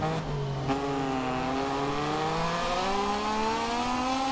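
Racing motorcycle engines from the MotoGP 24 video game drone and rise in pitch steadily, a continuous high revving whine close up with no talk.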